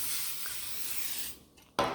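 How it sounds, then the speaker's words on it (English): Vegetable oil spray from an aerosol can misted onto a pan: a steady airy hiss for over a second, a brief pause, then a second short burst of spray, close and fairly quiet. "I got some vegetable oil spray and a pan"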